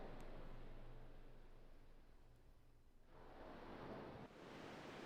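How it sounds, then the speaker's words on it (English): Ocean surf in the Final Fantasy X video game, a steady broad wash of waves that swells and recedes, with no talking. "I can hear the ocean."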